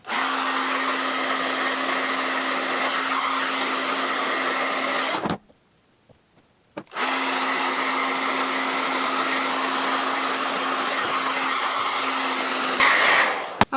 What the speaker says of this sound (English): taking a section of hair, blow dryer underneath, and I'm going to brush it through and constantly twirl my brush inward.